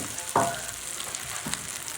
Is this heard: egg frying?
yes